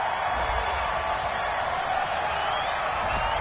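A stadium crowd in a football video game reacts to a penalty call with a steady, loud, sustained roar that could be booing, and it runs without a break.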